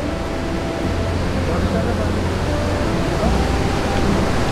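Mountain stream water rushing steadily in Mustang, a continuous broadband roar with no breaks, close and fairly loud, with voices talking faintly over it.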